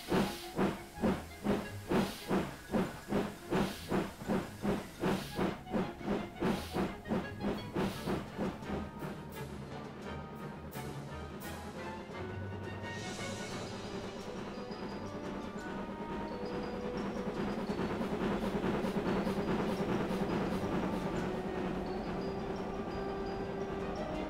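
A steam locomotive hauling Mark 1 coaches out of Retford chuffs loudly in a fast, rhythmic beat that blurs into a steady roaring rush as it gathers speed.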